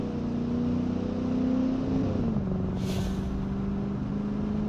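An RV engine in BeamNG drones loudly with its carburetor opened up, a steady tonal hum that climbs, shifts pitch mid-clip and settles lower, with a brief hissy burst alongside; no voices.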